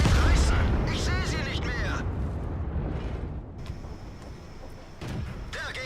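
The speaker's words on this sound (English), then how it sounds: "Starts shooting up the Panther M10 again." Tank cannon fire in World of Tanks, in a match with an Aufklärungspanzer Panther: heavy, booming blasts at the start fade into a rumbling tail, with a voice talking over the battle.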